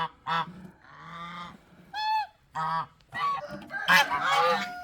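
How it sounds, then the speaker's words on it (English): Several geese honk loudly and close by in a run of separate calls, some short and some drawn out, ending in a harsher overlapping burst, with no talk. "These are beautiful birds."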